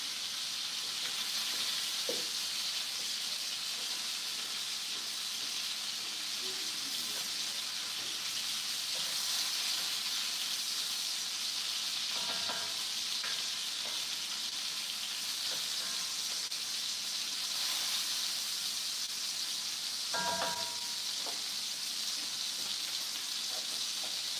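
Onions frying in a pan, a continuous soft sizzle and hiss held at an even level for the whole stretch, with a few faint clinks and knocks now and then and no talking.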